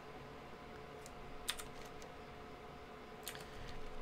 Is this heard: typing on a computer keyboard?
yes